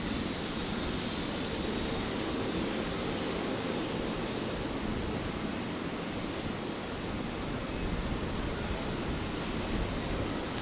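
Passenger jet Velocity 472 taking off from runway 19 left at Brisbane International Airport, a steady broad engine roar at a distance, constant and unbroken, with no voices.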